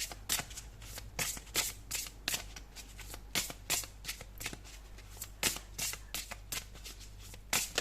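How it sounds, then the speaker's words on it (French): Oracle cards being shuffled and drawn during a tarot-style reading: a steady run of crisp riffling and flicking bursts repeats close to the mic across the whole stretch, over a low constant hum, with no talking. "On va prendre une troisième carte, s'il vous plaît."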